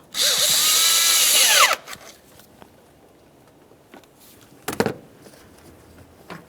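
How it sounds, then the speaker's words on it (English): A power tool whirs loudly for about two seconds while tightening the air inlet tube clamp on a 2012-2018 Nissan Maxima 3.5L V6, then stops, followed by quiet handling and a brief clatter. "Make sure you have the clamp in a position that you can gain access to it and tighten it. Let's tighten that clamp."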